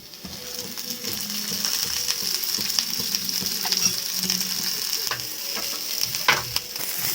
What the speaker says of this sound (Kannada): ಈರುಳ್ಳಿಗೆ ಒಂದು ಅರ್ಧ ಸ್ಪೂನ್ ಆಯಿಲ್ ಹಾಕ್ಕೊಂಡು ಫ್ರೈ ಮಾಡ್ಕೊಳ್ಳೋಣ